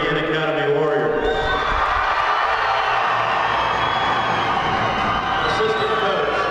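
A basketball crowd at a girls' 2A state quarterfinal cheers loudly for the home team, Berean Academy, as a constant, roaring wall of noise from the gym.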